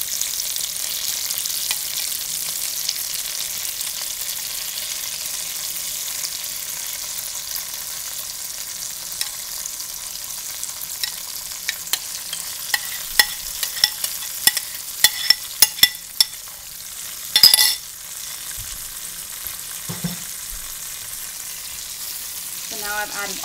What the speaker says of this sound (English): So now I've added all of my yogurt. I'm whisking it.